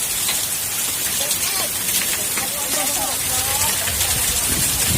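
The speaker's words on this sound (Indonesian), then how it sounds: "Hujan es, ya Allah." Dense, heavy hail pelting on surfaces during a windstorm in Bojonegoro makes a constant loud hiss and patter, with a voice speaking faintly beneath it.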